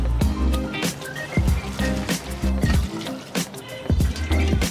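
Liquid pouring into a container while making hard seltzer, a gurgling, trickling fill with bubbly splashes, close and fairly loud, heard alone without speech.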